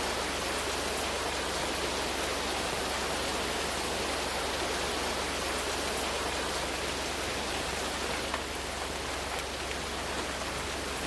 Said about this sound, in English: Now it's hailing out here.